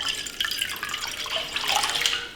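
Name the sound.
water poured into a cooking pot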